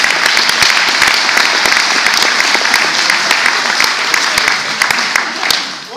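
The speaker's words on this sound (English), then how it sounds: "Big round of applause for that, man." Applause from an audience at a community centre in Bradford, steady and dense with sharp individual claps, sustained for several seconds before easing slightly near the end.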